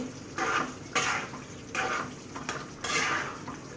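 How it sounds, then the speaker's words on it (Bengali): Spicy broiler chicken bhuna being stirred in a cooking pot, with four or five rhythmic scraping strokes of a spoon against the pot under a faint sizzle, close up and alone. "এর মাঝে আবার আমি এইভাবে একটু নেড়ে দেব, নাহলে নিচে দিয়ে লেগে যাবে।"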